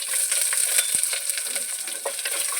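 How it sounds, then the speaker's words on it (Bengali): Chopped onion fries in hot mustard oil with dried chillies, five-spice seeds and bay leaf, a close, steady sizzle broken by spoon-stirring scrapes and a clink, with no voices. "পেঁয়াজটা একটু ভেজে নেবো।"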